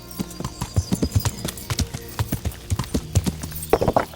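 A horse in the video game Kingdom Come: Deliverance clip-clops along in a steady, loud, close rhythm of hoofbeats, with a brief snort or whinny-like burst near the end.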